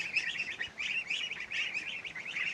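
Newly arrived ducks and geese calling in a steady, busy stream of high chirping and peeping notes, fairly close and continuous, with no talking.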